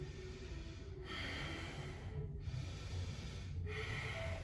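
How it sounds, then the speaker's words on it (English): Forceful fire breath in a yoga class, strong rhythmic snorting breaths pushed through the nose, close and loud, in three long sustained bursts with brief pauses between. "Strong breath through the nose."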